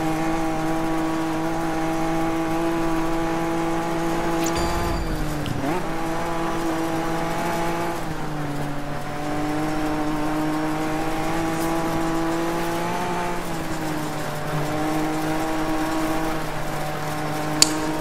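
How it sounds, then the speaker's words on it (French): A BMW rally car engine racing in DiRT 3, holding a steady high drone with brief dips and re-revs at shifts or corners, loud and continuous with no voices over it. "Je suis tout seul dans mon véhicule, dans mon super bolide,"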